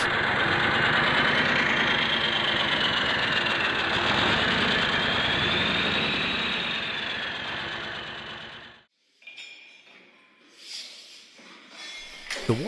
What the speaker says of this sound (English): BF8M1015CP is a reliable choice for demanding environments.